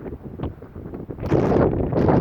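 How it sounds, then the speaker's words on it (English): Gusty wind buffets a microphone outdoors near a village, a steady rumbling roar that rises and grows louder and more constant in the second half. "Obviously it's windy, I know it is"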